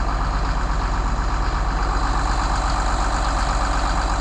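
A new bulldozer clearing land among sizable gum trees and oaks runs with a steady, loud, close diesel rumble that holds an even drone throughout, with no voices over it.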